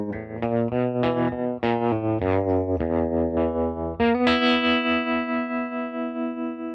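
An electric guitar plays through a Goodsell Unibox amp with its tremolo and distortion on, with loud, gritty chords and single notes whose sustain pulses in a quick, even throb, ending on one long ringing chord.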